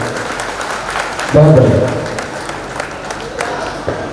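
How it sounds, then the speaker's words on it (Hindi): An audience at a function applauds for several seconds, the clapping steady and moderately loud while someone speaks briefly over it. "तालियां बजा करके सम्मान करें"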